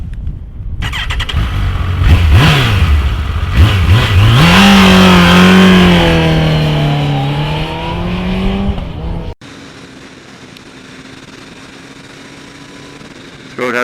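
A 2012 Kawasaki ZX-14R sport bike revs hard and accelerates through the gears on a road ride, loud and close, with the engine pitch rising and falling. It then drops to a quieter, steady cruising drone.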